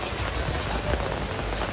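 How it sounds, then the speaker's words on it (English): Rain falls steadily on surfaces outdoors before a rafting trip in Montego Bay, Jamaica, a dense close hiss of drops with no talking. "We're in the rain."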